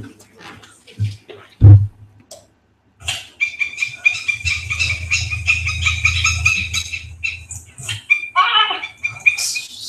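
Birds squawking loudly and repeatedly close by, with a couple of heavy thumps near the start.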